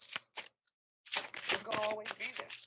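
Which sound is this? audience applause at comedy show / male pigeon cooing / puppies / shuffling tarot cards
shuffling tarot cards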